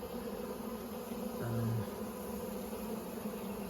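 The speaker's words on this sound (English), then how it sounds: "There's a good amount of bees around her, and there's no aggression" Honeybees hum in a low, continuous drone around an instrumentally inseminated breeder queen, a soft steady buzz with a slightly louder swell near the middle.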